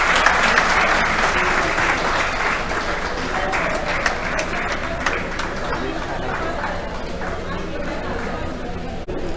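An audience gives sustained, even applause at an Independence Day duathlon medal ceremony in Jammu, a steady patter of many hands with a little chatter mixed in.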